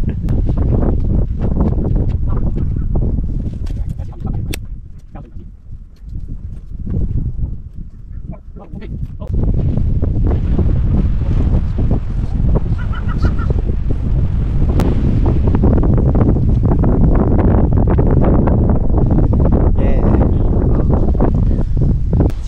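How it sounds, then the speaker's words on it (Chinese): Very strong wind roars across a rocky mountain cliff in Hong Kong's Lion Rock area, buffeting the microphone in loud, continuous gusts that ease briefly midway before surging back. "超大风啊！"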